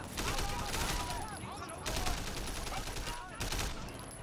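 Dense, continuous gunfire from the Sleeping Dogs video game in a noisy rolling fusillade with short surges, and a voice talking underneath.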